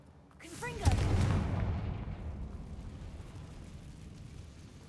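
Confringo blasting spell going off in Hogwarts Legacy: a sudden booming explosion near the start with a rumbling roar that slowly fades into a long tail.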